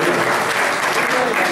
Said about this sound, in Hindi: जिनका स्वागत हो रहा है तालियों से सामने